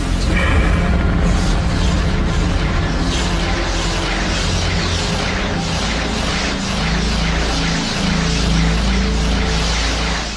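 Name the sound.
explosion sound effect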